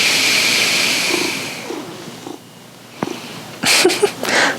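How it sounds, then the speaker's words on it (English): A cat purrs close by in a quiet room, a low steady rumble that fades out, followed by a few louder soft thumps and rustles at the end. "Hello, Mr. Purr Machine"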